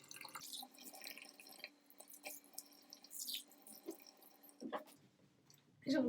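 Water running and splashing at a bathroom sink as a face is rinsed, quiet uneven drips and splashes with a louder burst at the end.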